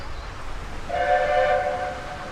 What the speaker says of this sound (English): the train is passing Nine and Tide's house